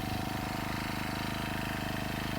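A four-stroke brush cutter engine runs at high speed, a loud, even buzzing drone with a rapid regular pulse, close and continuous.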